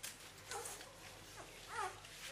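A five-day-old puppy gives a few faint, thin whimpers, soft rising and falling cries spread over about two seconds against a low background hiss.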